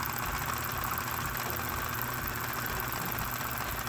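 A carwash water pump motor runs steadily with a constant mechanical whine and hiss, unchanging throughout, close by and fairly loud.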